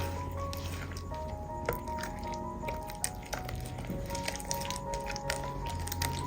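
Batter for an evening snack is mixed with oil and a teaspoon of salt, giving soft, wet squishing and a few small clicks. The sounds are quiet and close, with faint background tones and no speech.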